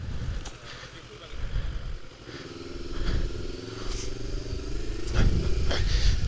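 A 2014 Honda CBR500R motorcycle engine while riding, a smooth moderate hum with a rising tonal note midway, heard under wind and road noise.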